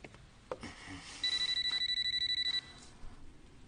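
A telephone rings in a single electronic trill lasting about a second and a half, with a few faint knocks and rustles before and after it and no voices.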